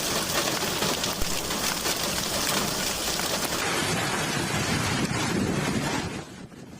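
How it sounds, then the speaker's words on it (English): Hail pelting roofs, cars and the ground, a dense, continuous hissing patter like heavy rain, steady and fairly loud before easing off near the end. "Hail is accompanied by a distinctive sound. The tapping on roofs, cars, and the ground resembles the beat of a drum."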